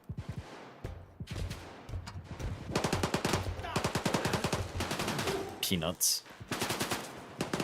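Rapid automatic gunfire in the shooter game STALKER GAMMA, bursts of machine-gun fire rattling steadily through most of the stretch, with someone talking over it.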